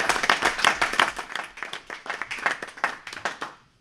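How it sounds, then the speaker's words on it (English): A small audience at a public trust board meeting claps for a few seconds in a close, uneven patter of individual hands that thins out and stops. "I think we need to give you another round of applause."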